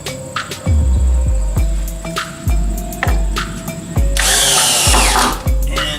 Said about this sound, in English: And drill it to the wall.